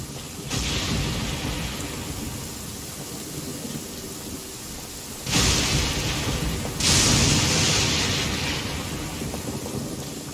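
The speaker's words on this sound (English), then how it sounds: "It's raining." Steady rain pours down while two loud thunder rumbles break in partway through, the second rolling on into a heavier wash of rainfall; no voices are heard.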